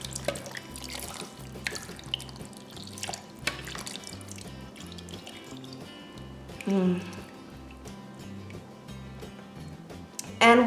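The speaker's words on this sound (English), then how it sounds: "And we're just going to pour it over the meat." Barbacoa sauce is poured over raw meat in a cooking pot, a wet dripping and splashing sound that rises in brief bursts over steady background music.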